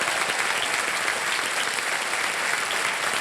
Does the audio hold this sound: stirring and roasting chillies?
no